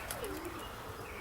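Young white racing pigeons around the loft, a brief faint coo and soft chirps over a quiet outdoor background, with a light flutter at the start.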